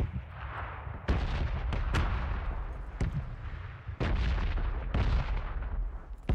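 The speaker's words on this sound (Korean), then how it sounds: "아니 저 일단 폭격이니까 조심하세요." Bombardment in the PUBG Battlegrounds video game: a rapid series of heavy blasts and booms, roughly eight distinct impacts with rumbling tails, loud and close, with no talk over them.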